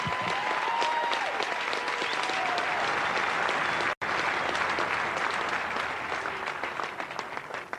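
Sustained applause from a large audience at a tennis exhibition final, steady dense clapping filling the whole stretch with a brief dropout midway, loud and close, with no talk over it.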